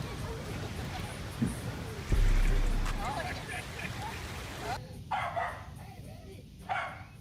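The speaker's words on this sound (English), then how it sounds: "don't stop barking." A dog barks and yips a few times over continuous room noise and background voices, with the sound becoming sparser and quieter near the end.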